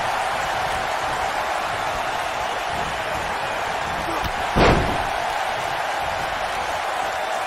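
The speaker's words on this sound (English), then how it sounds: "That slam just brought this entire arena to its feet." A single heavy body slam thuds once midway through a wrestling match in the WWE 2K19 video game, sounding over a steady arena crowd roar with faint commentary beneath.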